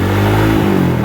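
Mio i 125 scooter engine with a custom-tuned ECU, revving loud and close in a short burst, its low steady drone shifting pitch midway.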